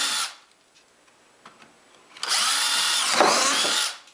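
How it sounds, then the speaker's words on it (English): A power drill bores bolt holes through a wooden Adirondack chair: a brief whir, a pause with light handling noises, then a steady, loud, close drilling run of about two seconds that winds down. "I can go ahead and drill through these holes for the bolts"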